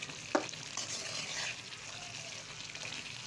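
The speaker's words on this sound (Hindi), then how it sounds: "अब हम इसको भून लेंगे जब तक इसका ऑयल ऊपर नहीं आ जाता। हम इसको भूनते हैं।" Masala frying in oil with bay leaf and garam masala for chicken biryani: close, continuous sizzling with a spoon stirring and scraping the pan, an early sharp clink, then the frying settles to a softer steady hiss.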